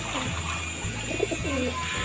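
Pet pigeons coo repeatedly at close range while drinking water in winter, low throaty rolling calls repeating in an uneven rhythm with no talk.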